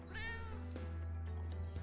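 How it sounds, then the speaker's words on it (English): A cat meows in the video game Tokyo Dark, a clear drawn-out mew with rising and falling pitch, fairly close and alone over a steady low background drone. "Oh, that's a cat."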